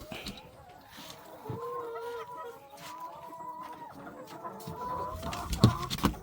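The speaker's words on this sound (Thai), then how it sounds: "ไก่สามสิบตัว" Backyard laying hens, a flock of about thirty kept for two years, cluck and murmur in soft overlapping calls on a rural Thai farm, with a few sharper squawks near the end.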